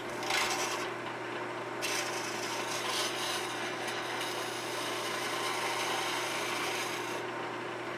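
A skew chisel taking a peeling cut along a round wooden workpiece spinning on a lathe, giving a continuous close scraping, rasping sound with brief brighter bursts.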